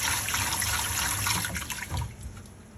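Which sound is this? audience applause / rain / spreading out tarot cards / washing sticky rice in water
washing sticky rice in water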